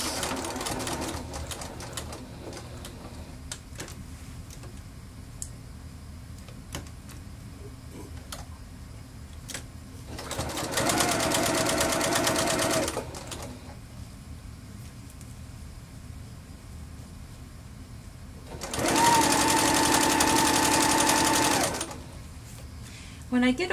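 Sewing machine stitching the end of a scrub cap strap, running in two steady bursts of a few seconds each with quiet handling between, fairly close.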